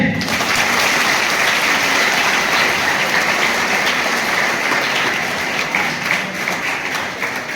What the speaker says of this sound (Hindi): जोर तालियां बजाइए